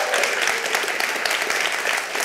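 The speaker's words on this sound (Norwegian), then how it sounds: "Første vi skal klappe for" Dense, steady applause from an audience at a Norwegian children's book award ceremony, the Bokslukerprisen, with many hands clapping continuously and no talking over it.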